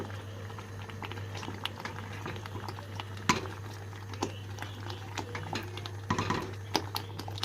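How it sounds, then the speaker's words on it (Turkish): Halva syrup boils steadily in a pot on a stove, a continuous low bubbling hiss with scattered pops and ticks throughout, heard close up and alone without any talk. "Kaynamaya başladı arkadaşlar."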